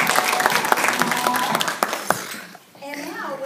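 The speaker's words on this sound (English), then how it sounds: "Let's give everybody a round of applause" Crowd applause at a hostess event, dense clapping with some cheering and children's voices mixed in, fading out near the end as a voice begins to talk.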